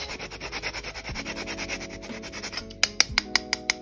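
Wax being grated on a cheese grater to make homemade candles: steady, rhythmic rasping strokes close up, speeding into quicker separate scrapes toward the end.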